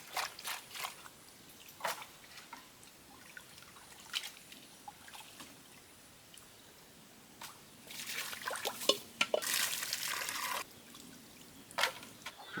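Fish are washed by hand in salted water, with soft trickles and small splashes close by. The sounds are quiet and sparse at first, then grow into a louder stretch of sloshing and pouring.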